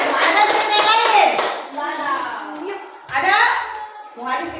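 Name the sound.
children clapping hands in class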